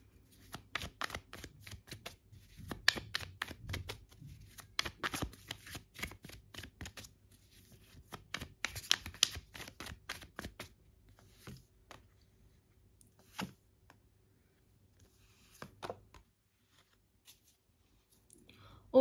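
Tarot cards are shuffled and handled up close in rapid, crisp riffling bursts with scattered clicks and snaps, fading to occasional single card sounds toward the end.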